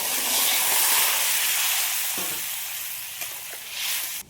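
Curry vegetables poured into hot spiced oil burst into a loud hissing sizzle that slowly fades and settles, with a couple of sharp clinks near the end.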